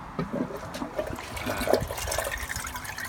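An aquarium pump switched on pushes water through a pond filter setup, giving a steady gurgling, trickling wash, fairly faint and continuous with no talking.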